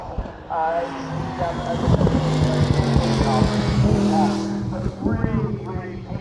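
A Lamborghini race car on a circuit passes close by, engine note climbing and shifting as it goes past, heard under a voice.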